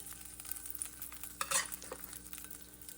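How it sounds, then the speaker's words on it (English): Bacon and eggs frying in a cast iron skillet, a quiet steady sizzle with a low hum beneath and one brief louder scrape midway, no voices. "that's how you cook with a cast iron skillet"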